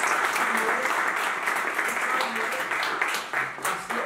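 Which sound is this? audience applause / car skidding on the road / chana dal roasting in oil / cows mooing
audience applause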